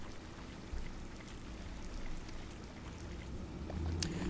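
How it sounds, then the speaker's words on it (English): Steady rushing waterfall ambience from a StarCraft II match map, a continuous watery wash with scattered droplet-like ticks, moderately faint and heard alone without talk. "you guys can hear this waterfall sound"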